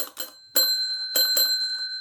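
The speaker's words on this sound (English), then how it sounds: "It's got a physical bell," A ghost hunting motion sensor with a physical bell rings in sharp metallic dings, two quick strikes, then a pause, then several more with a sustained ringing tone hanging between them, close and alone.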